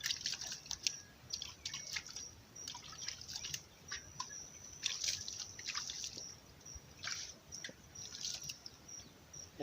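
Well water dripping outdoors at a rural home, a steady patter of small drips falling close by, with faint birds in the quiet background.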